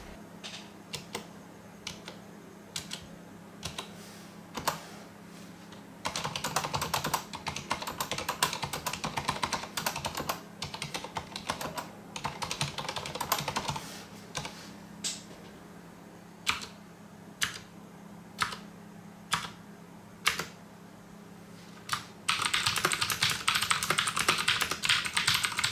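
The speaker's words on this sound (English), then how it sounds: "we're going to be using Cherry MX browns just so you can hear the difference in sound and response" A Corsair Strafe RGB mechanical keyboard with Cherry MX Brown switches is typed on in bursts: scattered single keystrokes alternate with denser runs of rapid clacking, close up over a low steady hum, with no voices.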